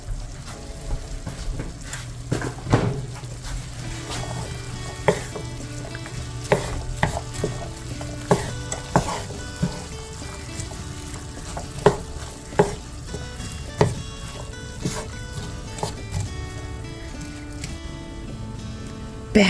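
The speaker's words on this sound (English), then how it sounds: "we're going to put those onions in there and we're going to let that cook for a little while" Chopped onions fry in olive oil in a pan, a steady sizzle and crackle running throughout with scattered sharper pops and clicks, close and continuous with no voices.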